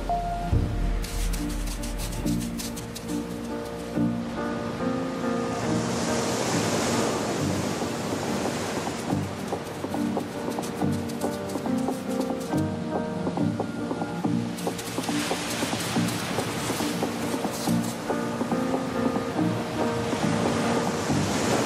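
Ocean surf rolls onto a beach in Costa Rica, with broad, steady wave wash and crashing breakers swelling and fading, loud and continuous, with some wind noise and no voices.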